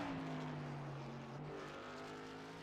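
Race truck engine droning at speed on Nashville Super Speedway in a racing game, a steady tonal whine that shifts pitch slightly as it passes, fairly faint and alone without talk.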